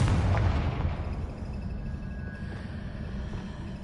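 A spell-cast explosion from Hogwarts Legacy: a heavy, booming burst at the start that rolls off into a low rumbling tail, with no talking over it.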